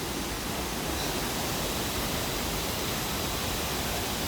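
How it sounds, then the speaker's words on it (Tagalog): Tinuy-an Falls in Bislig, Surigao del Sur roars as a dense, unbroken wash of falling water, loud and close, with no voices over it. "Yan yung falls, yung Tinoyan Falls."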